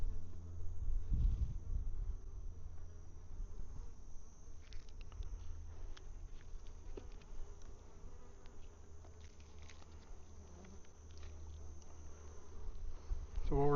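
Honey bees hum and buzz in an opened hive during a hive inspection, making a low, continuous drone close to the listener, with a few nearer buzzing passes and faint handling noises but no talking.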